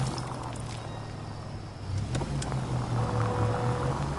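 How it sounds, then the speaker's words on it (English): A 1940s-era car in the video game L.A. Noire idles and then pulls away, a steady low engine rumble that rises as it accelerates, with faint road and wind noise. "Nice car, Roy"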